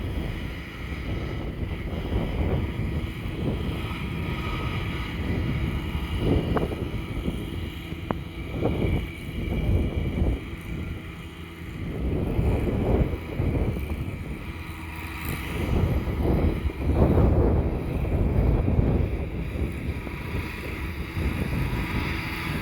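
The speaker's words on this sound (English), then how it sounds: "it's really windy today" Strong gusting wind buffets the microphone in loud, uneven surges beside a 54-inch drum mower's first run, with a faint hiss of moving air and no voices.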